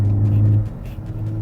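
A 2013-2018 Ford Focus ST four-cylinder with a Ford Performance stainless steel cat-back exhaust gives a deep, steady droning note up close, dipping briefly midway before settling back into its low hum.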